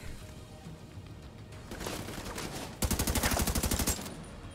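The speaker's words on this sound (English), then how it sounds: "Oh wait, I'm shooting at our teammate." Rapid automatic gunfire in The Division 2: Warlords of New York, a dense burst of evenly spaced shots, getting faster and sharper toward the end, loud over a background of game ambience.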